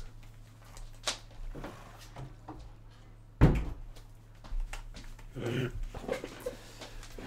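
A door in Minecraft thumps shut partway through, one sharp knock among scattered soft clicks, with dog whimpers and yips sounding around it.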